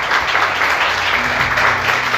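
A church congregation applauds loudly and steadily for a couple of seconds, a dense, close wash of clapping hands filling the room with no voices over it.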